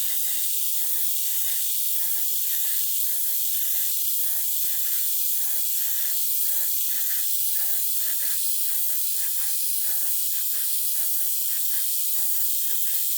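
Steady airbrush or spray-can hiss laying thin clear coats on a 1/24 Airfix Bf109 G-5/G-6 plastic model kit, a continuous close spray pulsing in quick short bursts with no talk.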